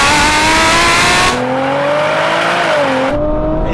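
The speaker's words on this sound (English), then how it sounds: "More wheel spin there." In a race between a Nissan GT-R NISMO and a Ferrari 812, an engine revs hard in a rising, wavering tone as the wheels spin under acceleration, cutting out abruptly near the end, with no speech.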